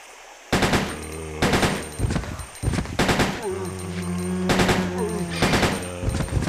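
Rapid automatic fire from an upgraded handgun in Resident Evil Code Veronica X, sounding as several loud bursts of quick repeated shots broken by short pauses, with steady game background tones running underneath.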